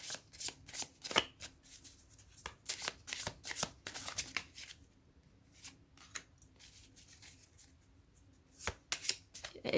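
Tarot cards shuffled by hand close up, a rapid flurry of papery riffles and flicks, easing into softer, sparser card slides before a few final sharp snaps.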